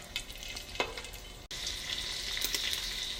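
Food frying in overheated, smoking oil in a pan, a close, steady crackling sizzle with a few stirring scrapes and a brief dip before the hiss swells again.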